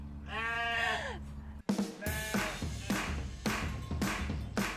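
Sheep bleat close by in a series of wavering calls, one long cry followed by several shorter bleats, with faint background noise between them.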